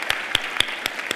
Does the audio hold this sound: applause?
yes